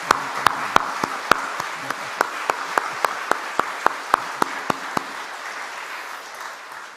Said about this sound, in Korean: 우리 한번 축복의 박수 한번 할까요?